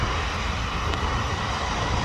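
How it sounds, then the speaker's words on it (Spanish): A helicopter about to depart on a hot, breezy day gives off a loud, steady rotor and engine drone that stays constant and close, with no voices. "Y creo que el helicóptero va a partir ahora."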